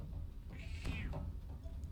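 A cat meows once, a clear rising-and-falling call at close range over a low steady background hum, with no talking.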